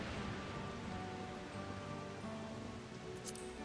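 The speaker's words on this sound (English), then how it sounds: "Just chilling in the rain, having a leisurely conversation." Rain falling in a fantasy role-playing game, a faint, steady hiss of rainfall on surfaces throughout, with no talk.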